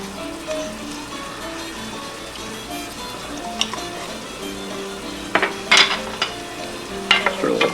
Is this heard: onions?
yes